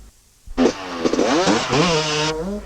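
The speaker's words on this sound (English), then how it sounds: "Chris Price kept the bike out of the rut, but then he fell in it himself." A motorcycle engine at an enduro race revs hard and close, holding a loud, rising and falling drone for about two seconds before cutting off.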